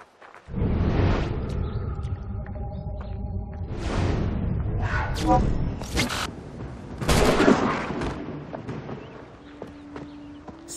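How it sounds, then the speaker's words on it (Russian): Gunfire in the video game Assassin's Creed III, with several loud booming shot bursts and crackling impacts over a rumbling game soundscape, followed by a sustained tone as the action settles. "Славный выстрел"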